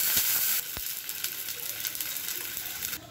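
Hot water poured into a frying pan of fried garlic and green chili sets off a sharp burst of sizzling, which settles into a steady hiss and bubbling close by.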